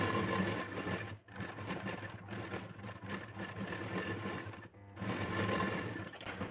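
A sewing machine stitches blouse lining in a continuous close whir, with two brief pauses between runs and no voices.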